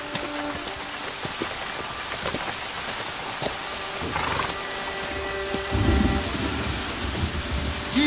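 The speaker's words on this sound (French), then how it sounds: "L'abbé Marcus, nous cherchons un abri pendant la tempête." A stormy night brings steady hissing rain falling on surfaces, with a deep rumble of thunder swelling near the end, heard alone without any talking.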